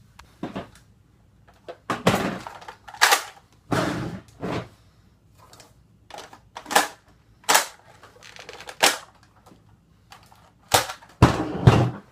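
Plastic parts snap off cheap knockoff 12-shot magazine clips in a series of sharp, loud cracks, about a dozen spaced irregularly with quiet gaps between.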